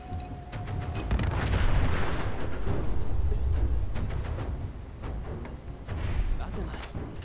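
Gunshots in the video game Fallout 4 thump and crack repeatedly, several sharp booming reports scattered over a rumbling background while someone talks throughout.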